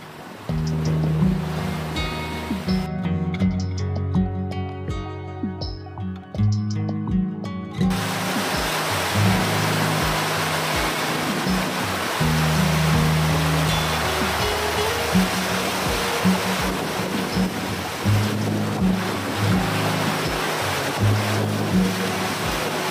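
Sea roaring and rushing past a sailing boat making over 8 to 9 knots on passage from Port Elizabeth to Cape Town, a steady loud wash of water and wind with a brief tonal interruption near the start.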